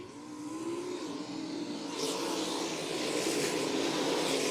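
Sprint cars race around the turns of a dirt speedway at Crystal Motor Speedway in Michigan. Engines roar steadily at a distance and build in loudness as the field comes off the corner.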